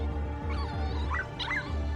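Puppies yipping and whimpering in short, high bursts over a steady low hum, fairly close, with several overlapping cries spread through the moment.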